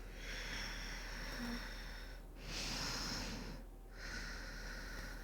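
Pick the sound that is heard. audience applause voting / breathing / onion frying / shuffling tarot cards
breathing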